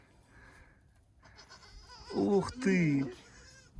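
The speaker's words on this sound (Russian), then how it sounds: "Вот козлятки какие." A mother goat and her kids bleat in two close, strained calls in quick succession, a short pause between them. People speak softly before and after.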